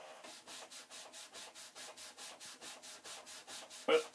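Quick, even back-and-forth rubbing on painted numbers on a Commodore 1541 disk drive casing during cleaning, about three strokes per second, close and fairly soft, ending with a brief louder knock.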